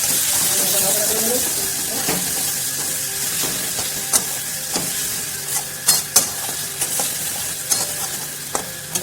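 Ginger-garlic paste stirred in hot frying oil for a Bengali fish kalia, with a steady loud sizzle and scattered spoon scrapes and clanks against the pan, louder near the end.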